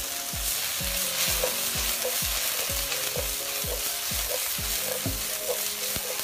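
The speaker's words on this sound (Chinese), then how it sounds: "倒入藕带，大火翻炒" Lotus root shoots stir-fried over high heat in a wok, a continuous loud sizzle broken by regular rhythmic scrapes and clanks of the spatula tossing the food, close up with no talking.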